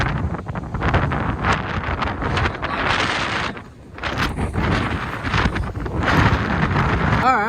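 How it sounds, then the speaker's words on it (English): A storm wind gusting at about 30 mph, recorded on the road in July 2021: loud, broadband roaring buffets the microphone in waves, easing briefly midway before surging again. "Winds are ripping right now. They're about 30 miles per hour or something like that."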